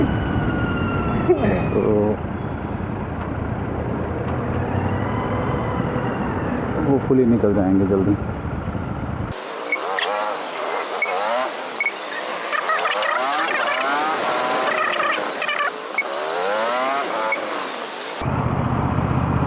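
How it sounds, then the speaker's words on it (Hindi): Evening road traffic in Kharar, slow but not jammed, passing around a rider on a Royal Enfield Super Meteor 650; engines and vehicle noise rumble steadily while someone talks over them. "जाम तो नहीं है, ट्रैफिक है थोड़ा सा"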